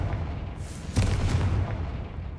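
A Confringo blasting spell in Hogwarts Legacy, a single deep booming explosion that swells and rumbles briefly before fading into low background noise.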